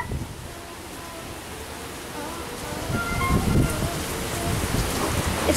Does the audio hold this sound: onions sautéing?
no